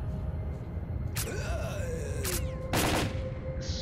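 Bursts of gunfire from the video game S.T.A.L.K.E.R.: Call of Pripyat, three sharp volleys spaced across a few seconds over a steady game ambience, the last burst loudest.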